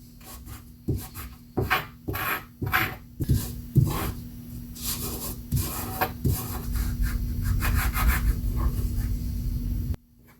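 Grain being ground by rubbing against a ceramic tile, giving a series of rough rasping strokes that start as separate scrapes and merge into steady continuous scraping before stopping abruptly.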